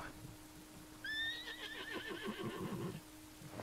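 A horse whinnies in the online riding game Star Stable Online, a rising, wavering neigh with faint hoof clip-clops underneath and a steady low hum across the background.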